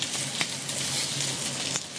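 Stuffed green chilies filled with pork mince sear face down in a very hot pan, giving a steady, close, even sizzle across the whole moment with a couple of brief sharper crackles.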